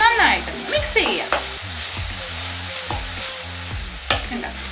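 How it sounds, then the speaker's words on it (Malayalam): Ground coconut is stirred into green chilli pachadi in a pan, with a steady sizzle and several scraping stirs of a spoon close up. "നാളികേരം ഒഴിച്ചു കൊടുത്ത ശേഷം നന്നായിട്ട് മിക്സ് ചെയ്യാം."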